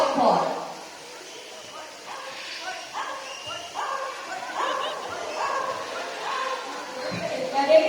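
At a bird show, a bird imitates a dog, producing a series of short bark and yip-like calls, fairly close and moderately loud, with a trainer's voice and crowd sounds around it.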